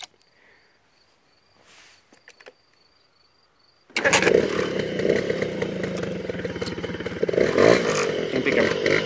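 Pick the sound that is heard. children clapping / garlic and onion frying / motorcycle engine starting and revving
motorcycle engine starting and revving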